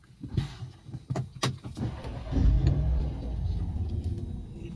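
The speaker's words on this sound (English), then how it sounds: "Let's start the engine." A BMW with a B48 engine cranks with a few clicks and clunks, then the engine fires with a low rumble and settles into a steady idle close by.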